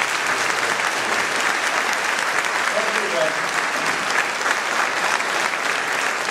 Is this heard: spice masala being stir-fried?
no